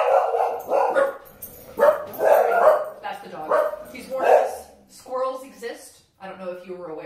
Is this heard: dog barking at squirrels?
yes